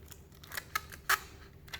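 Adhesive tape is handled during floral arranging with wet foam, giving a few short crackling rips and clicks, close and fairly quiet.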